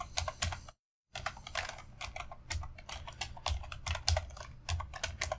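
Rapid, close clicking of computer keyboard keys as code is typed into a text editor, steady bursts of keystrokes with a brief pause near the start, no talk.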